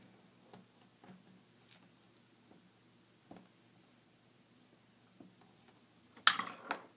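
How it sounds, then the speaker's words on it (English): Adhesive backing is peeled off a handmade card decorated with tatted lace, giving a short, sharp ripping burst near the end after a few faint taps and rustles. "we're just going to peel off that backing"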